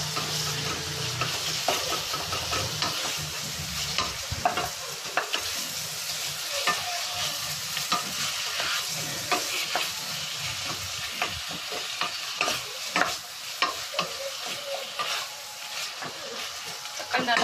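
Sliced tomatoes sauté with ginger garlic paste in a pan for mutton dum biryani. A hissing sizzle runs throughout, broken by frequent stirring scrapes, with a voice speaking now and then over it.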